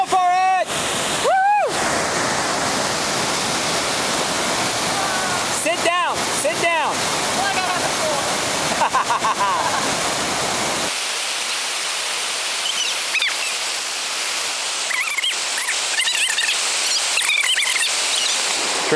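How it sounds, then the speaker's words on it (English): Waterfall at Panther Creek roars as a steady broadband rush, loud and continuous, with people talking and calling out over it in the first half before the water carries on more alone. "We're at the waterfall, right there."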